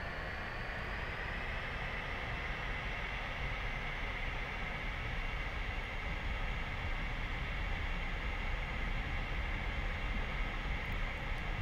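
Helicopter engine at full throttle in the DCS flight simulator fills the cockpit with a steady, dense roar and a high turbine whine, constant and close for the whole stretch, with no talk.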